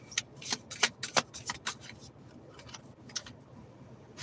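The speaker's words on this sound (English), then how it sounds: "Especially with the Temperance card as I shuffle through" Tarot cards riffle and flick in a quick run of crisp, close papery bursts, fading to a few lighter flicks and soft rubbing toward the end, with no talking.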